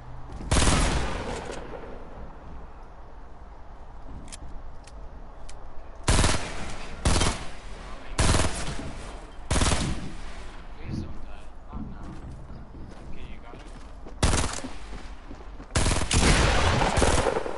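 Gunfire in a PS4 video game: repeated bursts of rapid automatic shots, loud and close, separated by quieter stretches, with someone talking over parts of the action.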